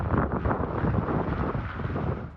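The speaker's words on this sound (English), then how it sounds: "with gale southerlies gusting 110 kilometres an hour" Strong gale-force southerly wind gusts roaring steadily across the microphone outdoors during a storm with widespread flooding around Christchurch, a loud, continuous buffeting rush that eases slightly toward the end.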